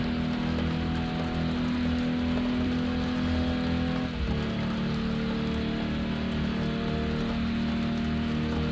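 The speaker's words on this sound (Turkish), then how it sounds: "Şimdi yağmuru keselim arkadaşlar. Yağmur artık yağmasın." Steady, dense hiss of heavy rain in a driving video game, falling continuously over a low engine hum, with a brief dip midway and no talking.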